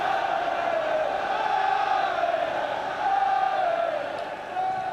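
Football crowd at a Liverpool v Grimsby Town League Cup tie appealing for a penalty, a sustained loud roar of massed voices throughout.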